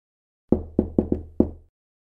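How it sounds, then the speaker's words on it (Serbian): Five sharp knocks on a wooden door, close and clear in quick succession against silence, used as a sound effect in the fairy tale of the wolf and the seven little goats. "Vuk opet dođe do kozije kućice i pokuca na vrata."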